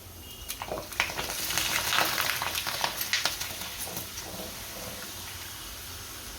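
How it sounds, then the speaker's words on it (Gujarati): Potatoes for bhungla bateta frying in hot oil give a steady, bright sizzle with crackling pops that swell in the first few seconds, then settle into an even hiss. No voices are heard. "આ જ રીતે બધા તળી લઈશું"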